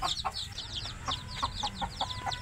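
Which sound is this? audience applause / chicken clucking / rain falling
chicken clucking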